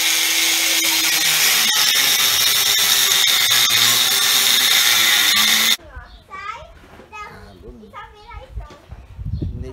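A power tool cuts iron bar for a metal gate, a loud continuous grinding whine for several seconds that stops abruptly, followed by talking and faint workshop noise.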